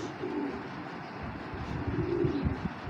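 A male cheetah-patterned military pigeon cooing close by in repeated soft throaty rolling phrases over a low steady background hum, without talk.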